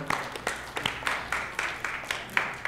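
A church congregation applauds, with scattered individual claps standing out sharply and irregularly over a softer background of clapping, heard fairly close and moderately loud.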